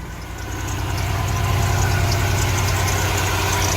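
A car engine idles steadily while warming up, a loud, constant low rumble that swells slightly at first and then holds even, with no talking.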